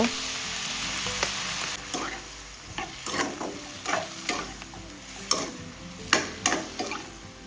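Pork belly sizzles in a pan with garlic, coriander root and pepper, a steady hiss of frying broken by repeated scraping stir strokes, close and fairly soft.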